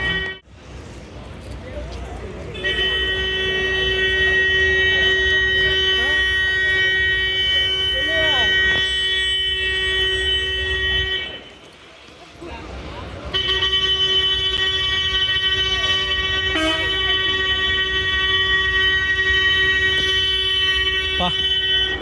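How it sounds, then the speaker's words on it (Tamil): Heavy road traffic near a new omni bus terminus in Coimbatore, with long sustained horn blasts and a steady engine rumble, a brief lull midway, and people talking throughout. "செம டிராஃபிக்ங்க."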